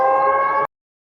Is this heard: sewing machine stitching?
no